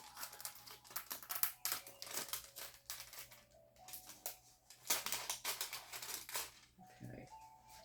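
Scissors cutting through perforated plastic canvas, crisp crinkly snips in irregular bursts close by, with a faint steady hum underneath.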